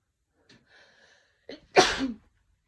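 A woman sneezes forcefully once, a loud close burst after a few small breaths and a brief sharp inhale, then silence.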